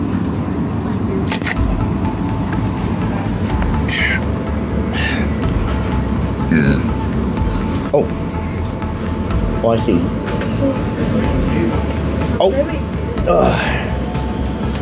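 A steady, loud rumbling roar of a passing train fills the clip, with scattered clicks and short exclamations from a nearby voice over it.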